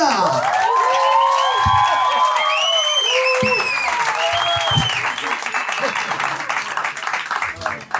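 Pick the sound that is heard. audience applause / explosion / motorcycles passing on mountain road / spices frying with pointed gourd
audience applause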